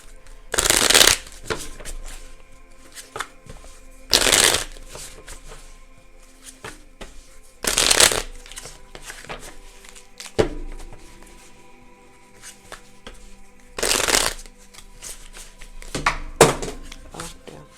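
A deck of cards being shuffled, five or six crisp riffling bursts separated by pauses, with light handling taps and faint knocks between them and a voice speaking briefly.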